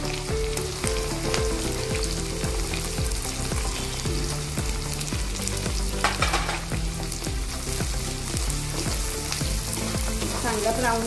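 Onions fry in oil for chivda with a loud, steady sizzle, accompanied by a regular rhythmic scraping of a spatula stirring through the pan.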